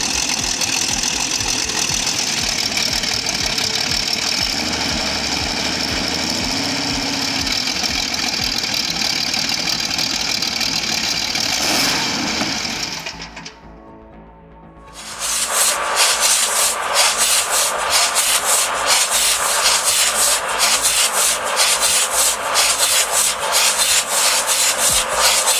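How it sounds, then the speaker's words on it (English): An EMD 645 two-stroke 12-cylinder diesel engine runs with a loud, dense, rough roar, drops away briefly, then returns with fast, sharp rhythmic knocking. "The EMD 64512, a two-stroke, 12-cylinder diesel powerhouse built for muscle and endurance."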